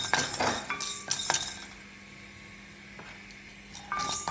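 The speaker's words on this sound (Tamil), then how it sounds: "இனி 1 தேக்கரண்டி உளுந்தை போட்டு வறுக்கிறேன்" Urad dal roasting dry in a pan while being stirred for puliyodharai, with scraping and clinking of a spoon against the metal pan in short bursts, a quiet stretch in the middle, then more stirring.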